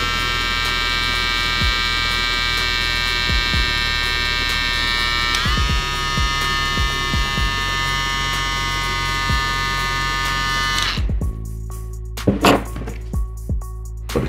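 A VGR V640 electric hair clipper runs at its lowest speed, giving a steady close buzzing hum with bright harmonics and occasional small clicks and taps, then is switched off near the end, leaving a few handling knocks.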